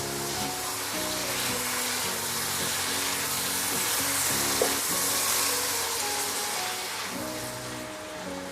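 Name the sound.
fried potatoes and pork stirred while frying in a pan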